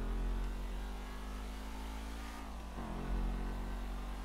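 A car engine revs and accelerates steadily under way, a loud continuous drone with a rising pitch near the end, with no talk over it.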